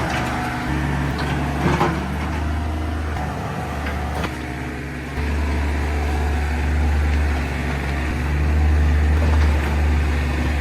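A Komatsu excavator grades and levels gravel on a basement site, its low engine drone steady and loud, dipping briefly before rising again under scattered scraping and knocking.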